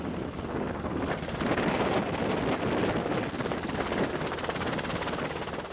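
A twin-engine helicopter powered by two General Electric T700 turboshafts, working heavy sling loads, gives a loud, steady, close rotor and turbine roar that swells slightly after the first second and holds for the whole stretch, with wind buffeting and no talk.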